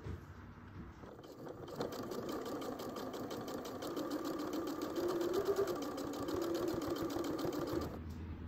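A sewing machine stitches a seam for a machine cover in a steady, rapid, even mechanical whir that holds for about seven seconds at a moderate, fairly quiet level.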